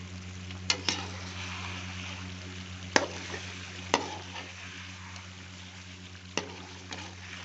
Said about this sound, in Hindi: कौरमा तैयार हो रहा है जी, कौरमा।